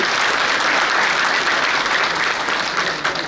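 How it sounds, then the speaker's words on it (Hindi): Dense, continuous clapping from a crowd at a Mahashivratri puja at Saket Dham, Gwarighat, Jabalpur, praising the decoration of a Parthiv Shivling, loud and even throughout before easing slightly at the end. "आप लोग तालियां बजा सकते हैं इसके लिए"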